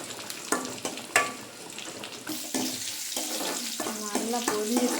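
Spices for a drumstick curry tempering in hot oil, a crackling sizzle with sharp pops and stirring clatter, moderately close.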